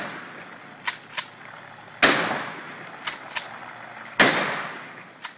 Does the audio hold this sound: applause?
no